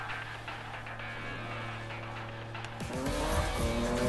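A car's engine roars in the 2015 Need for Speed racing game during a sprint race, a steady loud drone that surges near the end as the revs climb and tires squeal, with no talk over it.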